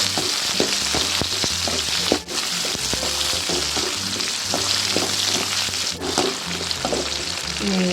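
Onion, chili, sundal, curry leaves and ginger sautéing in a pan for sundal kuzhambu, a continuous close sizzle broken by frequent scraping stirs and clinks of a spoon.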